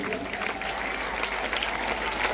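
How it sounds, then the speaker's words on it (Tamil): Audience applause at a Victoria College, Chulipuram 150th anniversary ceremony, a dense, even burst of many hands clapping from a large seated crowd, steady and loud for a couple of seconds. "அவர்களுக்கான நன்றிகளை வழங்குமாறு உங்கள் கரகோஷம் ஒருமுறை ஓங்கி ஒலிக்கட்டும்."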